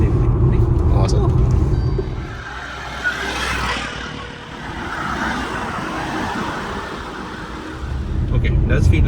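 A Jeep Compass cruising fast around a turn, with a steady, loud road and engine rumble that swells and eases, heard from inside the cabin under ongoing talk.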